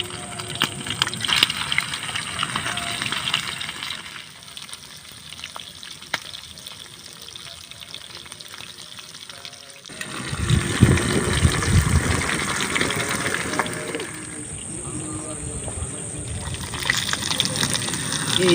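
Fish frying in hot oil in a Teflon wok, a steady broadband sizzle that swells louder partway through, close up with no talk.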